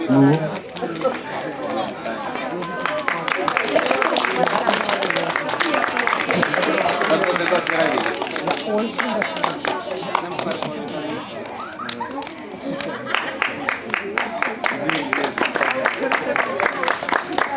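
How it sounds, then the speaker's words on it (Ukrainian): An audience at an initiation ceremony into the Bukovynska Troia community claps, sharp, rapid rhythmic hand claps running for many seconds over lively crowd chatter, dipping briefly partway through before picking up again. "Молодці, аплодуємо, аплодуємо."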